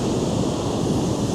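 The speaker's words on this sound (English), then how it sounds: "I can see from that end that the waves are kind of big-ish" Ocean surf at Ipanema beach forms a loud, steady broadband wash, with big-ish waves churning continuously and wind buffeting the microphone, and no voices present.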